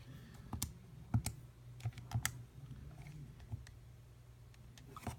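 Numbers are keyed into a calculator keypad, giving a few sparse, soft clicks and taps at an irregular pace against quiet background noise.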